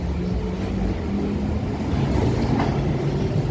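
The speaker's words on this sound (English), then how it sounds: "Just missed the train." A London Underground train rumbles steadily at the platform, a loud continuous low roar with faint rail clatter and no voices.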